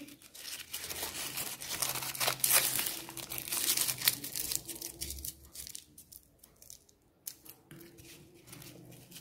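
Paper crumpled into balls by hand during a preschool class activity, a run of crisp crackling and rustling bursts that are loud at first and then grow sparser and quieter, with no talk over them.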